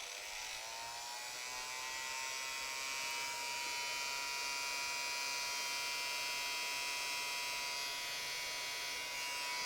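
A loud, constant high-pitched whine and blowing roar from a heat gun drying paint, running steadily without pause.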